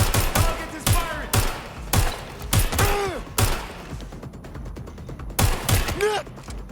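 Gunfire in the video game Watch Dogs Legion rings out as a series of sharp, loud shots spaced roughly a second apart, some in quick bursts, with brief voice fragments between them.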